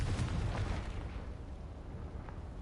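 A fire-blast spell bursts in a Hogwarts video game, a loud booming explosion at the start that rumbles and fades into a low roar over a few seconds.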